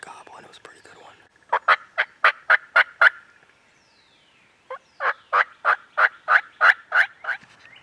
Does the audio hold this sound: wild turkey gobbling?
yes